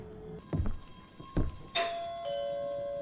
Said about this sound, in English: No way, someone rang the doorbell.